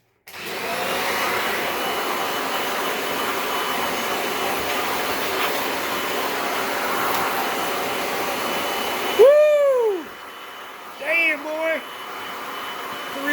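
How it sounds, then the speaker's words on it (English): A vacuum cleaner runs steadily close by as it clears dust and debris off a PS3 console, a loud continuous whine that cuts off abruptly near the end, followed by brief higher squeals and a quieter hum. "I'm going to vacuum some of this shit up and get all that off there."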